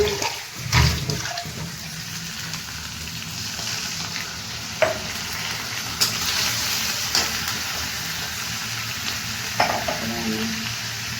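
Water poured into a pan of tomatoes cooking for a spiced chicken curry, with sizzling and stirring noises, a burst of pouring and splashing early on, then steady frying with occasional clinks of a spoon.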